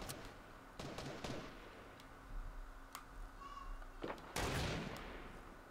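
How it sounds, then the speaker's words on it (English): Sniper rifle fire in the Fortnite video game: several sharp, distant cracks scattered irregularly over quiet ambience, with a louder report near the end. "We're getting sniped at from somewhere"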